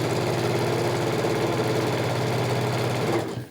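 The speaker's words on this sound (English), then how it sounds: "So I'm just going to start sewing" A sewing machine stitches a line across a quilt, running at a steady, fast, even rhythm close up before stopping abruptly near the end.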